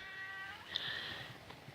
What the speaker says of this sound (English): I'm sorry, my cat.